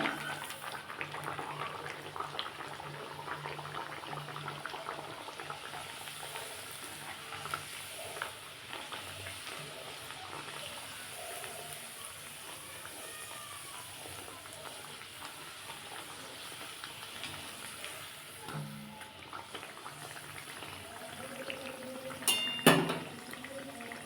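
Peas kochuri frying in hot oil in a pan, a steady soft sizzle and bubble that runs on quietly throughout, with a brief clatter near the end.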